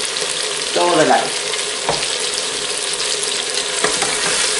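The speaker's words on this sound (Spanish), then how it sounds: "y dejaremos que se sofría todo" Chopped bell pepper sizzles steadily in a pan as the base of a rice dish with chicken and rabbit. The frying hiss is loud and constant, with a few brief stirring scrapes and clicks and no talking.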